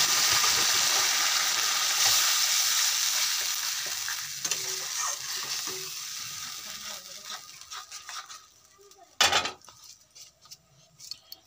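Spice paste sizzles loudly in a hot pan for Bengali mutton kosha while a spoon stirs and scrapes it. The frying fades gradually, and a sharp clatter of the utensil sounds near the end.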